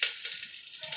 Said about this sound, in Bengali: আলু ভেজে দেবো মুচমুচ করে।